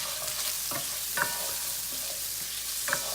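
Sliced Alabama-made Conecuh smoked sausage crisps in a pan with a steady soft sizzle, punctuated by occasional pops and a few light scrapes of stirring, close and fairly quiet.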